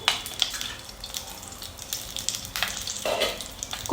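Spiced chillies sizzle steadily in a hot pan, a soft continuous frying hiss with occasional stirring scrapes and no talking.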